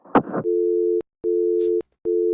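A telephone busy signal after a call ends: steady electronic tone beeps in a regular on-off rhythm, three pulses following a brief rustle of handling noise at the start.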